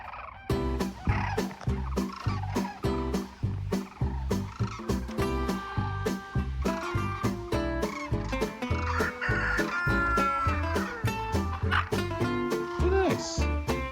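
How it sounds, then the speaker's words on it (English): Domestic fowl, with turkeys gobbling and chickens clucking, call near and loud in a dense, continuous flock chorus of overlapping calls throughout. "Many, many birdies."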